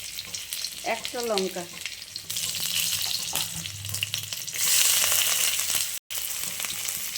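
Chopped garlic and a chili hit hot oil, raising a close crackling sizzle with stirring noises, a short voice-like tone early on and a brief dropout near the end.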